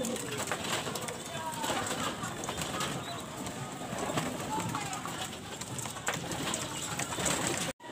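Racing pigeons coo steadily in a loft, soft repeated calls layered over constant background noise and a voice talking throughout.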